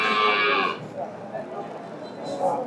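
A dairy cow gives a short, loud moo close by at a cattle market, then a person talks over faint background noise.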